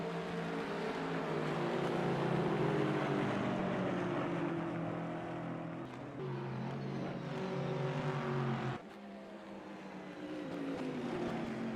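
GT3 race cars, including a BMW and an Aston Martin, race at Watkins Glen. Engines drone steadily, with a pass in the middle and a sharp drop in level near the end. No one speaks.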